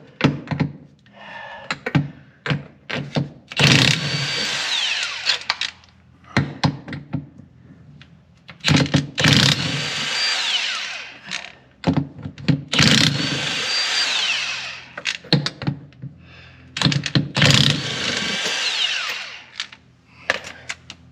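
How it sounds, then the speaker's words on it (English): Repeated bursts of whirring from a Cobalt cordless drill or impact driver that sat for two weeks in a cold shop, several short runs of a few seconds each with pauses and clunks between, close and fairly loud. "This Cobalt drill,"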